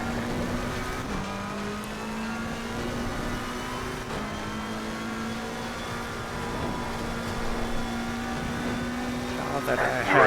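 A race car engine in an AI-handled racing video game whines at a steady high pitch that shifts abruptly a couple of times with gear changes, a continuous moderately loud tone with a brief rising burst at the end.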